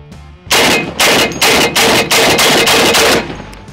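A heavy shoulder-fired gun lets off a rapid burst of about seven loud, closely spaced shots that ring briefly into silence.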